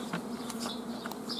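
Honeybees buzz around a beehive, a steady close drone with individual bees darting past, no voices over it.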